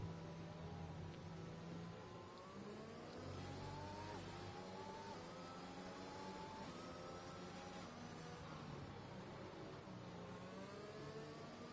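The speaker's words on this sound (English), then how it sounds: "Just listening to the cars is quite nice." F1 race cars howl around the Emilia-Romagna circuit in the F1 2021 video game, a steady layered drone of several high-revving engines with rising and falling pitch sweeps, continuous and alone.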